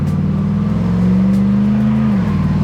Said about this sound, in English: not too loud, but you still get to hear the awesome V8